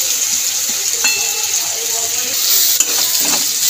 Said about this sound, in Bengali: গরম তেলের মধ্যে রসুনটা দিয়ে দেব, পেঁয়াজটা দিয়ে দেবো, লঙ্কাটাও দিয়ে দেবো কোচানো